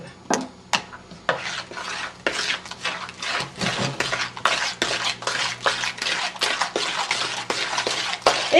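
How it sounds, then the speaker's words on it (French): Egg cake batter of eggs and sugar is mixed in a bowl with quick, rhythmic strokes, each scraping and clinking against the bowl, close and fairly loud with no voices. "Et vous mélangez."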